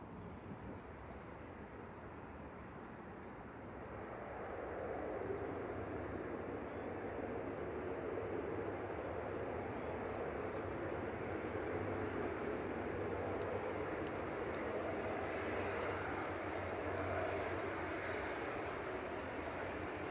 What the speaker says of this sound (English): EIHPJ coming in for Aer Lingus Regional from Dublin with flight 3328.